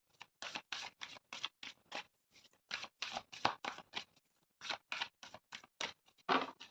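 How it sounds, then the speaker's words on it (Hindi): Tarot cards being shuffled by hand, a quick series of crisp riffling and flicking bursts in an irregular rhythm, close and fairly quiet, with no talking. "थोड़ा और शफल करूँगी"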